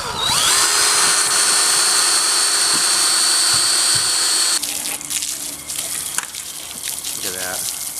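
Water sprays steadily onto a plastic car front lip that sat outside covered in pollen, a loud continuous hiss with a whining drill tone layered over it, then the spray turns splashier and uneven.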